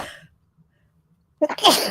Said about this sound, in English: I try to mute sneezes, but I didn't make it in time.